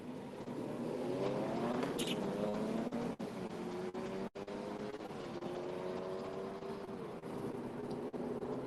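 Diesel BMW lined up in the left lane against an SUV at a drag strip, engine note droning and rising steadily as the pair accelerate, loud and continuous with crowd noise beneath.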